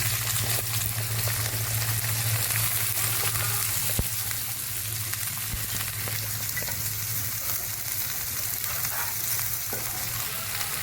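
Onions crackle and sizzle steadily in hot oil for a prawn curry, a dense continuous frying hiss with an occasional stir or clink, close by and without talk.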